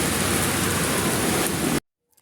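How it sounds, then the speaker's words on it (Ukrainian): Steady broadband hiss of rain pouring down outdoors, close and loud throughout, then cutting off abruptly into near silence for the final half second. "І дощик на щастя."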